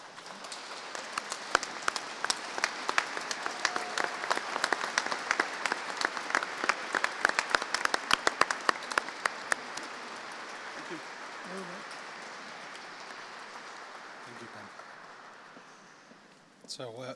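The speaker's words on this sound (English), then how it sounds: "please stand and give a round of applause to all of the staff at Arden University" A large audience at the Arden University 2019 graduation ceremony claps in a long, dense round of applause that gradually fades out, with scattered sharper claps and a voice speaking faintly near the end.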